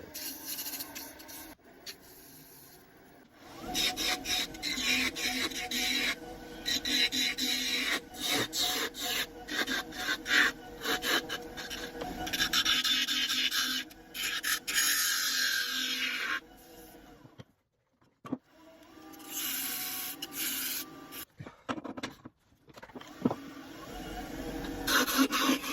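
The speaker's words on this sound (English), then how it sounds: "time for a little sanding and finishing on this inside of the lid" Hand sanding the inside of a wooden apple box lid on a lathe, a steady dry rubbing rasp that runs in long close strokes with brief pauses and a short break near the end, with no talking.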